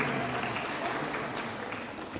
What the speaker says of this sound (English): Applaud for him anyway.